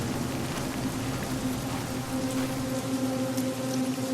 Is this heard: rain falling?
yes